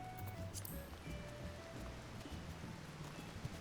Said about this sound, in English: It's raining at the moment though.